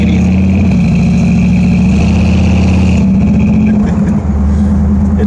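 A 1968 Dodge Charger R/T engine runs steadily at a low, loud rumble throughout, holding a constant drone with a slight shift midway, heard from inside the car.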